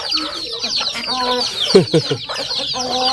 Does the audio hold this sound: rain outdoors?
no